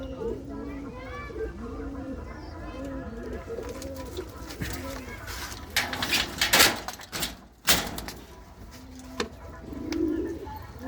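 Pigeons in a village loft coo in a rapid run of repeated, throaty calls at close range, followed by sharp clattering knocks and rustling as birds shift about.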